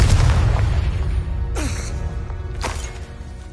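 A Confringo blasting curse explosion in a Harry Potter video game: a heavy, booming blast that slowly decays, followed by two sharper, cracking bursts.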